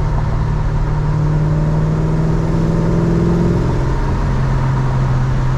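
A 1966 Chevrolet Chevelle SS (138) cruises through a 2.5-inch exhaust, giving a steady, droning engine note at constant speed, loud and close, with a low hum that sags slightly partway through.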